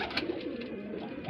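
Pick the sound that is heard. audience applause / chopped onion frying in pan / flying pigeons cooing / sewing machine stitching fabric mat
flying pigeons cooing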